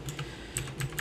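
Quick, light keystrokes on a computer keyboard, a short run of soft, closely spaced taps heard alone at close range.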